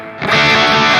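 Electric guitar played through a Bogner Uber high-gain amp model with cab on a Nux MG30, starting quiet, then a loud, sustained distorted chord ringing out alone.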